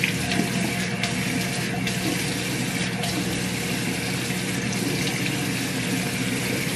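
Tap water runs steadily into a sink, a constant broadband rush that stays at even loudness throughout while someone wets their face during a skincare routine.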